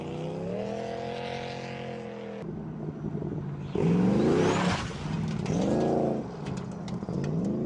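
A car engine after an engine swap revs loudly and continuously, rising and falling in pitch through several throttle blips, close and dominant throughout.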